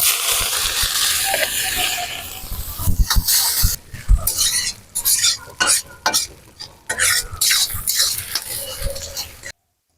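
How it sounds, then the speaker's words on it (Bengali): Potatoes sauté in hot oil in a pan as the first step of a goat meat curry. A loud, continuous sizzle is broken up by scraping and stirring clatter, then stops abruptly near the end. "আর আলুটা কষিয়ে নিচ্ছি খাসির মাংস রান্না করবো"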